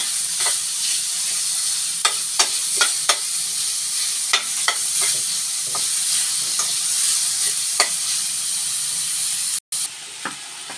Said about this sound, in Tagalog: Magluluto ako ng ginisang patola ba sa giniling.